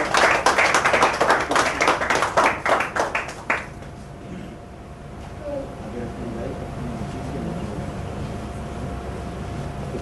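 A small crowd claps at an on-location television shoot, a quick run of close, distinct hand claps that stops abruptly after a few seconds, followed by low background hum and faint murmuring voices.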